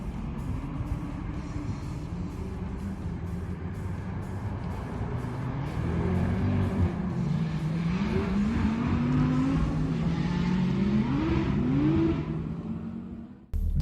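A manual-transmission Toyota Supra runs a slalom course with short straights at a Supra owners' meet, its engine droning steadily near, then rising louder with revs climbing and falling through the turns, no talk.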